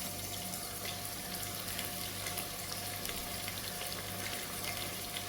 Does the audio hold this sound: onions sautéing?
yes